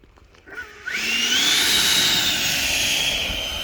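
An E-flite 80mm F-16 Thunderbird RC jet flies past, its electric ducted fan rising from quiet into a loud, sustained high-pitched whine with a sweeping tone that holds steady and slowly fades slightly.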